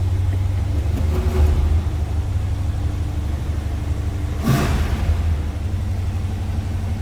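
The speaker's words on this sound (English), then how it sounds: "That was a cold start, so I'm assuming it's going to stay in high idle a little bit here till it warms up" A 1979 Ford Ranchero engine sitting at high idle after a cold start, a steady low rumbling drone close by, with a brief rise in revs around the middle.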